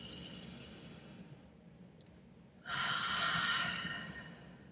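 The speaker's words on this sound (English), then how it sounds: "why don't we take just a couple of breaths together" A group takes deep breaths together during a guided session: after a near-silent stretch, one long, loud, breathy exhale swells up and fades over about two seconds, with no talking.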